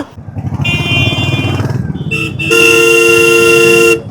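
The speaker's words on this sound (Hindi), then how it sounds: "हॉर्न मत बजाओ, चलो।" A vehicle horn honks close by on a road ride, first a shorter toot, then a longer sustained blast over a running Royal Enfield Hunter 350 motorcycle engine.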